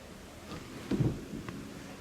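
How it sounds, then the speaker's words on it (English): A heavy rain downpour with faint thunder: a low, soft wash of rain, with a couple of muffled rumbling bursts near the middle, heard quietly from a distance. "It's a beautiful downpour."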